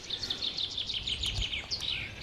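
Small forest birds sing in a steady run of high, bright chirps and trills, fairly close and continuous, with leaves and a dull thump low in the background and no voices.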